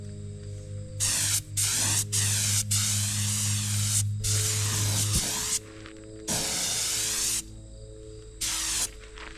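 Silver paint spraying onto the rims of a 1960 John Deere 430 two-cylinder tractor: repeated hissing bursts from a spray gun, several seconds each with short gaps, close and steady over a low hum.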